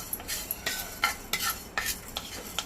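Fenugreek seeds are stirred and dry-roasted in a pan, with a spoon scraping and clinking against the metal in uneven strokes, close and distinct with no talking.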